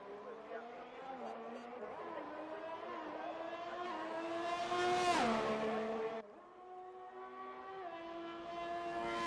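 Race cars lapping in a racing video game give off a whining engine note that climbs through gears, peaks and drops as a car sweeps past, then builds again, with commentary over it.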